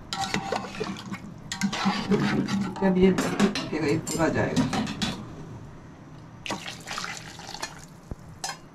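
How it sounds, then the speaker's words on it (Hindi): Hot water is poured into a pot of beef paya curry while someone talks over the splashing, which is mixed with clinks of pots and utensils. "पानी भी आपको गरम करके डालना होगा"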